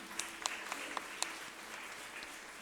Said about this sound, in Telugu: ప్రత్యేక అందరం కూడా మరి మన పీఠాధిపతులకు చప్పట్లు కొడదాం.